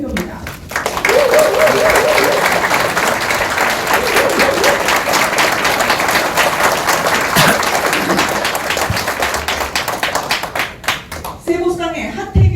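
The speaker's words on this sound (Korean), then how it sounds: "큰 박수로 화답을 해 주시기 바랍니다." A crowd at a political unification rally claps steadily and loudly in a sustained round of applause, with a voice over a loudspeaker briefly audible near the start and again at the end.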